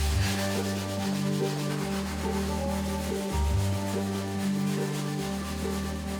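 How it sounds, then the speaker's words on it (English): Steady, rhythmic back-and-forth scrubbing of a filthy surface in a badly neglected house, close and continuous with regular strokes, no talking. "Oh, it's definitely taking some scrubbing."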